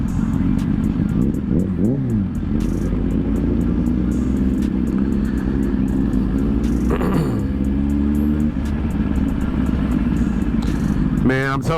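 A Suzuki GSX-R 1000 motorcycle ridden on the road, its engine droning steadily with rising and falling revs and wind rumble, heard close from the rider's position while people talk over it.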